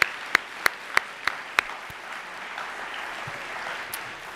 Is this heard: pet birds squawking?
no